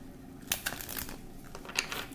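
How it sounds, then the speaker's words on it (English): Quiet, crisp riffling of tarot cards being shuffled, with a few sharper flicks and soft papery slaps spread across a couple of seconds. "I'm going to shuffle some more."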